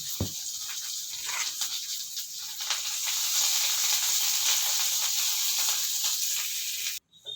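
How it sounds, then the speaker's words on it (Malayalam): Tempering sizzles steadily in a hot pan while banana stem upperi is cooked. The frying hiss is loud and close and holds throughout, then cuts off briefly near the end. "അതിലേക്ക് അരിഞ്ഞിട്ട് വറവിട്ട് കൊടുക്കുക വറവ് നന്നായിട്ട് മൂത്ത് വരട്ടെ"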